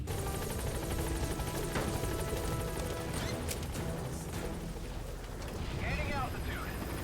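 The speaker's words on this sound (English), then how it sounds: "select support helicopter" Support helicopter in Metal Gear Solid 5, a loud steady rotor roar with engine whine, mixed with radio voices and game sounds.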